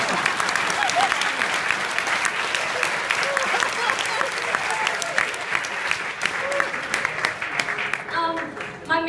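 A banquet crowd at a wedding celebration breaks into sustained applause, a thick continuous patter of many hands that carries on for several seconds before tapering off, with a voice emerging near the end.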